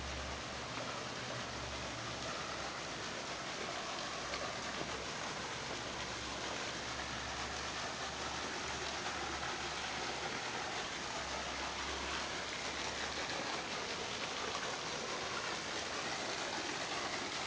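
Waterfall at Mermaid's Cave in the Blue Mountains near Blackheath, a steady, soft wash of falling water that continues without a break, with a faint low rumble underneath.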